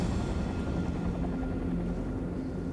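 Aircraft flying low over a snowy Alaskan valley, a continuous heavy rotor-like rumble and drone that stays loud and steady throughout, no talk.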